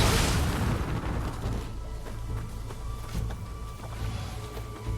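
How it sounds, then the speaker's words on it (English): A heavy cannon fires in the video game Nioh 2, opening with a loud booming blast that fades into a low rumbling tail, heard alone. "Yeah, it's a full cannon, not a hand cannon"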